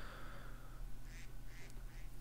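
A duck in the video game Minecraft gives a few short, faint quacks over a steady low hum, with no one talking.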